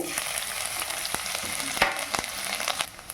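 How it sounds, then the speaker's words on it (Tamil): Green chili and ginger frying in hot oil for a green gram paneer cutlet, giving a dense, bright, crackling sizzle with small pops and scraping stirs throughout, close and continuous. "பச்சை மிளகாவும் இஞ்சியும் நல்லா பொரிஞ்ச உடனே"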